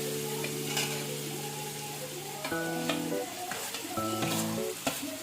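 Peas and potatoes with chilli masala and salt being stirred and sautéed in a pan as pani puri filling, with a steady sizzle overlaid by tonal scraping and clinking of a spoon against the pan.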